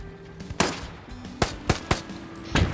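Gunfire in the World War II shooter Hell Let Loose, including a sniper shot, heard as several sharp cracks spaced across a few seconds at moderate loudness, with no talking.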